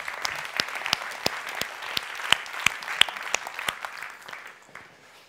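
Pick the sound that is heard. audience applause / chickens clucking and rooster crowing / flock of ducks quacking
audience applause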